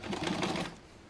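A sewing machine stitches a seam on a dart bag in a short, fast whirring burst that stops abruptly, heard close up.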